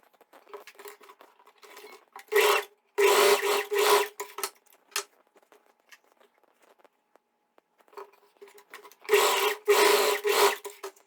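A sewing machine stitches the back dart of a pair of shorts in short bursts, two loud runs followed by a pause of near quiet, then another burst, with light handling noises between.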